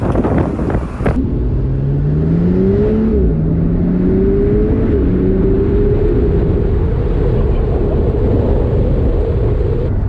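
Morgan Supersport sports car engine revving on the move, a loud droning engine note that rises and falls through gear changes, under heavy wind rush, with no talk.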